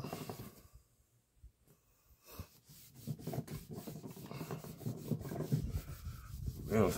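A cloth or pad rubs stain into wood on a sanded piece called the Springer, giving soft, rhythmic scrubbing strokes near the microphone that start faint, pause, and grow steadier and louder.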